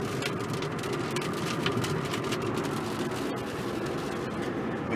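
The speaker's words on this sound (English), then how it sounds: "Bit of rain coming down now." Light rain falling outside a moving vehicle, a steady broadband patter with road and engine rumble beneath, continuous and moderately loud with no talking.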